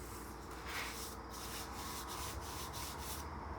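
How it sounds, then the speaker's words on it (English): A burgundy Scotch-Brite pad scrubs over a layer of brown Rust-Oleum paint, giving a soft, continuous abrasive rubbing with quick back-and-forth strokes, faint and close. "I take a little burgundy Scotch-Brite and I rough it up to take the paint."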